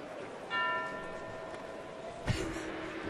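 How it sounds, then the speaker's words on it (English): A bell rings out once with a sustained, fading tone over a steady background hum, followed later by a brief thump. "The bell working."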